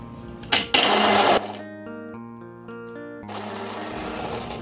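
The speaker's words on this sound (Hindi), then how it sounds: "अब ब्लेंडर से इसको हम चला देंगे।" An electric blender making banana lassi with water and ice roars in a loud burst, eases into a lower whirring hum, then revs up again near the end.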